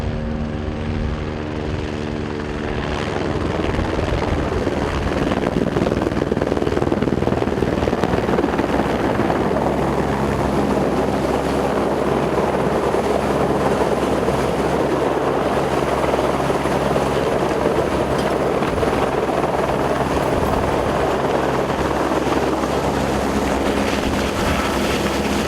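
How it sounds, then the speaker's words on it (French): A heavy-lift helicopter installing steel pylons at high altitude in the mountains, its rotor thumping loudly and continuously as it hovers close by, a constant roar with no speech. "l'hélicoptère, un engin spécial pouvant soulever plus d'une tonne à cette altitude, aligne au cordeau ses trajectoires"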